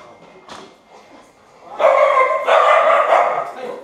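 A dog gives a burst of loud barking near the microphone after a few quieter moments, with short yips and whines.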